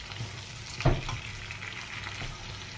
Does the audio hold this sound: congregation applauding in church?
no